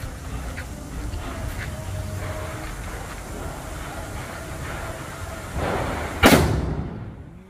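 A 217-rupee thunder bomb Diwali firecracker explodes in one sharp, very loud blast near the end, following several seconds of low outdoor background, with the boom decaying quickly afterwards.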